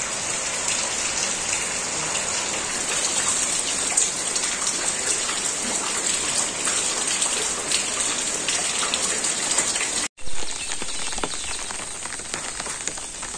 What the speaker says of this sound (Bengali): বৃষ্টি হয়েছে না?